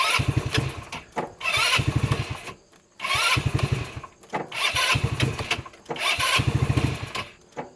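A Hammerhead R150 engine, freshly fitted with a new cylinder and piston, runs in four loud revving bursts with brief dips to near idle between them, a rough rhythmic mid-range buzz up close.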